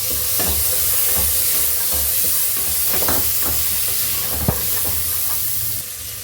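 Green peas stirred and frying in a pan while cooking pulao: a steady close sizzle with repeated scraping stir strokes, no talk.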